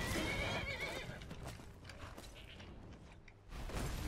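A horse in the Skyrim video game neighs loudly at the start, followed by softer hoof clip-clops and creaking, with a second burst near the end.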